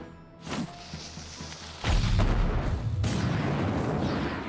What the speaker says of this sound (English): Let's throw a bomb at these rats.